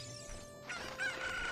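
A cucco chicken squawks and crows in Zelda Ocarina of Time as it is thrown. The cry is short and fairly faint, layered over game background sound.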